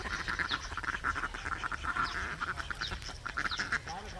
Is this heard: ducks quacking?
yes